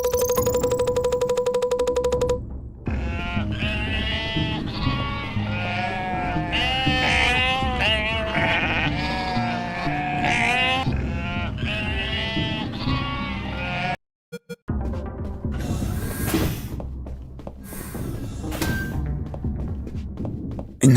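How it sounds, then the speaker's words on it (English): Sheep in the video game UnMetal bleat repeatedly and loudly, their wavering cries overlapping over game sound, broken by a brief silent gap and a few thuds. "I ran into 250 sheep."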